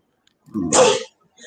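A single sharp sneeze bursts out close to the mic after near silence, rising quickly and cutting off, followed by a faint trailing sound.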